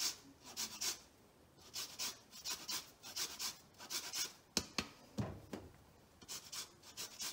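Limes being zested on a grater for a sablé azur biscuit dough, a quick run of close, dry rasping strokes in uneven bursts with short pauses; no talk.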